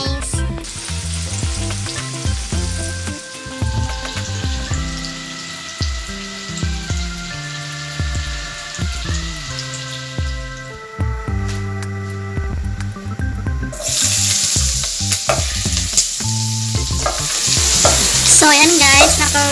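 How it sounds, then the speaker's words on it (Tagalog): Tofu frying in oil in a pan on a home stove, a steady crackling sizzle throughout with stirring and utensil clinks, and a brief splash of running water near the end. "prituhin ko muna ang aking tofu at nakasalang na rin ang aking kawali"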